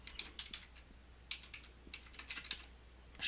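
Rapid keystrokes on a computer keyboard while typing in a website address, a quick irregular run of light clicks with short pauses, close and fairly quiet, with no voices.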